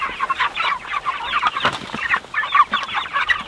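A flock of egg-laying hens in a pasture coop clucks and murmurs continuously, with overlapping close calls and no talking.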